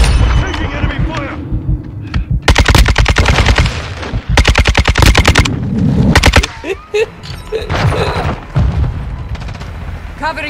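Enemy gunfire in a first-person shooter video game: rapid automatic bursts, loud and close, repeat in rattling volleys, mixed with booms and game voice callouts.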